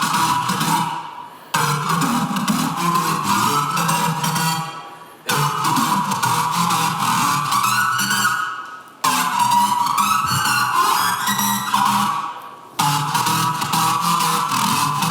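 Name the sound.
Serum synth using the sync function, drop B-part synth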